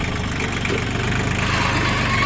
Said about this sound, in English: So let me park the tractor.